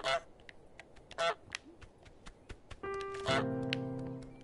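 Goose honks from Untitled Goose Game, several short sharp calls scattered across the moment, with a tonal game sound swelling near the end and a voice talking over it.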